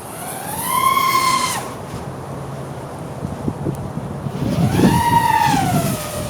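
A 7-inch cinelifter drone passes with a rising and falling propeller whine while it is buffeted by wind, with rumbling wind noise throughout.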